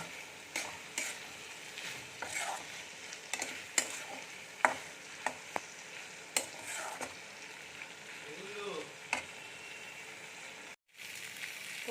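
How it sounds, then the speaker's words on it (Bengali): Pointed gourd (potol) being sautéed and stirred in an oily spice masala in a pan alongside prawns, with steady sizzling and a spatula scraping and clinking against the metal at irregular intervals, no talking. "এবারে ভেজে রাখা পটলগুলো দিয়ে দেব দিয়ে আরও দু থেকে তিন মিনিট ভালো করে কষিয়ে নেব"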